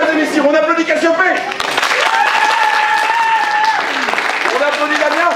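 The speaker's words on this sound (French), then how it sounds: "on applaudit Cassiopée" Audience applause at a storytelling performance, heard under a loud voice and overlapping musical tones, with clapping running steadily throughout.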